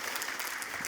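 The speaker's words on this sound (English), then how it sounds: "round of applause" Audience applause at an Uber Expo keynote, a steady patter of many hands clapping at moderate distance, fairly soft and continuous.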